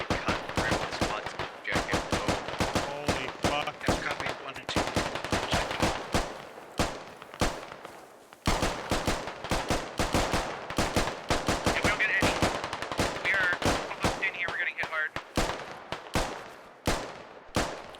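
Dense bursts of automatic rifle fire and scattered single shots crackle continuously in a Squad video game firefight, loud and rapid with brief pauses, while voices talk faintly underneath.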